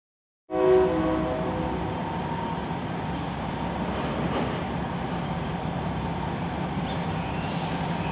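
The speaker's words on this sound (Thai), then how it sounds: "ตอนนี้ขบวนรถไฟ ดีเซลราง ธรรมดานะครับกรุงเทพหัวหินนะครับ ก็ กำลังออกจากสถานี" A Bangkok–Hua Hin diesel railcar departing a station rumbles steadily close by, its engine drone and wheel noise sustained throughout, with a brief high tone near the start.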